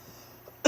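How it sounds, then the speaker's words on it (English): A single short, sharp cough from a man with a slight cough, sudden and close at the very end after near silence. "because I have a slight cough"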